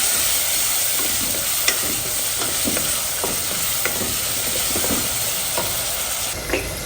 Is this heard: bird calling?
no